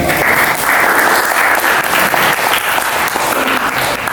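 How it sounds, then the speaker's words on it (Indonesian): An indoor audience at a school presentation session on fermented human urine fertilizer claps steadily, a dense, loud burst of applause filling the whole moment with no voices on top. "Kita berikan aplaus sekali lagi"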